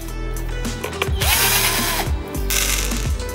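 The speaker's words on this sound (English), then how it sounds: "We remove the clamps, unscrew the screws," Screws being unscrewed and clamps removed from a mold, a close, loud run of ratcheting, whirring tool noise with grinding mechanical clatter and a few sharp clicks.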